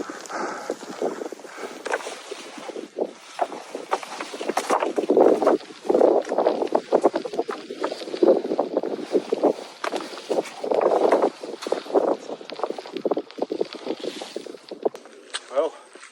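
Gale-force wind gusts buffet an exposed winter wild camping walk near Malham Cove in heavy rain, roaring in irregular surges with crunching footsteps underneath.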